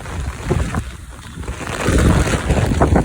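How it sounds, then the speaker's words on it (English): Strong typhoon wind during Typhoon Nanmadol in Japan, loud gusty roaring buffets that swell and build, with blustery noise close to the microphone. "And it's so windy."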